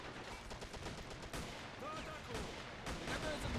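Dense battle gunfire from the World War II strategy game Men of War: Assault Squad 2 in a city-centre fight, continuous overlapping rifle and machine-gun shots with distant blasts, loud and unbroken throughout.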